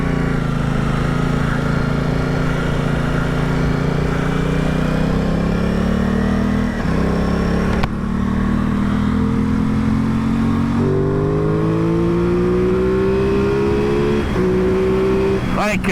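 A 2021 Aprilia Tuono 660 motorcycle engine revving while riding, loud and close, rising in pitch through the gears with brief drops at each shift, a rider's voice faintly under it.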